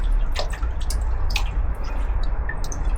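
Citric acid solution draining out of a heavily rusted fuel tank, a steady loud splashing pour with wet dripping and gurgling over a low rumble, close and continuous with no talk.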